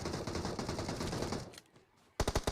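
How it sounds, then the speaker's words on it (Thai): Gunfire in the mobile battle royale game PUBG Mobile: a rapid automatic burst rattles for about a second and a half, a short lull follows, then a second quick burst of shots, close and loud. "โอ้มีเสียงปืนทางนานะครับ"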